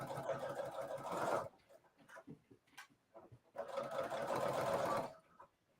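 A Brother Dream Machine sewing machine stitching around a textured holiday fabric project, two close bursts of rapid whirring separated by a short pause with faint handling noises.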